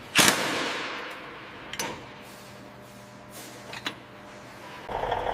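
Lorry wheel nuts tightened in a factory, sharp loud bursts from a power impact tool, one strong hit followed by a few fainter ones spaced a couple of seconds apart over a quiet workshop background.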